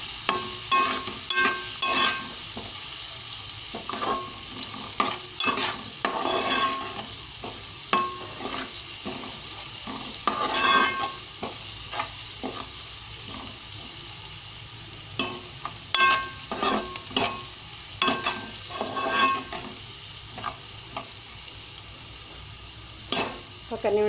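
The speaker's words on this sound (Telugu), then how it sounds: "ఒక నిమిషం వేగాలండి. ఉల్లిపాయలు వేగాయండి." Onions with turmeric frying in a pan for an amaranth curry, a soft continuous sizzle broken by frequent sharp scrapes and taps of a spatula, close and without speech.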